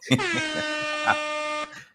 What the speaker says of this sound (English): let's do the air horn again